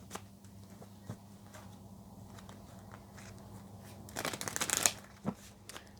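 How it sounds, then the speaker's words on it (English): Soft riffling and tapping of tarot cards being shuffled, quiet and close, with a brief louder flurry of card snaps near the end. "Just going to give the cards another shuffle."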